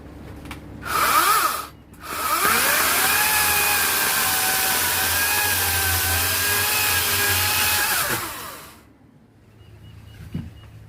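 A Ryobi 18-inch 40V brushless cordless electric chainsaw revving up briefly, then running at a steady high-pitched whine for about six seconds before winding down. Recorded close by, with a small clunk afterward.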